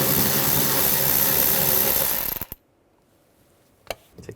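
A ratchet with a 10mm socket backing a bolt out of a Buick Enclave driver door: a loud, steady buzzing ratchet run for about two seconds that stops abruptly, followed by near silence and a couple of sharp clicks.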